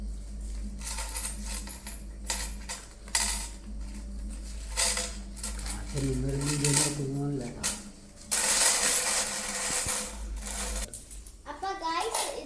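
Saved coins clink and rattle as they are sorted by denomination, scattered metallic jingles over a steady background hum, with someone talking at times.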